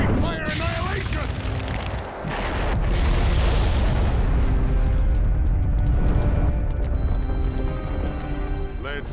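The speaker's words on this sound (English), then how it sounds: "Fire style, Greek fire annihilation!" Fire Style Greek Fire Annihilation attack in Naruto Shippuden Ultimate Ninja Storm 3, a sustained loud roaring, booming blast with bright crashing bursts early on, mixed with game effects throughout.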